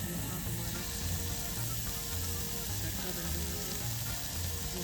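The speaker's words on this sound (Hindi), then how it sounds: "तड़का लगा रही है" Tadka tempering sizzles in a pan at a camp kitchen near Siachen Base Camp, a steady, fairly soft frying hiss that continues without a break.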